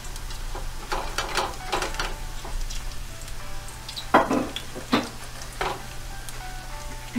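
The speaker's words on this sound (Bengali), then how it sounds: "একটা চামচ দিয়ে এটাকে আমি ভালো করে ম্যাশ করে করে ভেজে নিব" Mashed taki fish frying in a pan over medium-low heat, a soft continuous sizzle broken by sharp scraping clinks of a spoon stirring and mashing, close and without speech.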